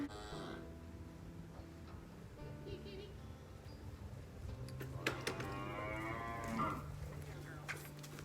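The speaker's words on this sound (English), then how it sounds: "She has such a whiny moo when she's mad." A cow on a farm, begging for grain and upset, lets out one long, whiny moo in the second half. Quiet farm background and faint human talk come before it.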